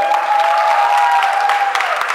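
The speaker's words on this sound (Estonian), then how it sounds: "teeme talle hästi-hästi suure aplausi," Dense, sustained applause from the audience at a student band final, loud and continuous throughout, with a faint steady tone running underneath.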